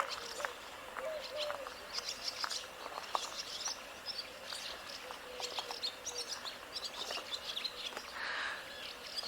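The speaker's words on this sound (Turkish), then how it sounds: "Pelikanlar gölde, kuşlar cıvıl cıvıl uçuyor." Birds chirp and tweet in scattered short calls over a steady outdoor ambience by a lake with pelicans at Gölyazı village, Bursa, at sunrise, with distant calls overlapping throughout.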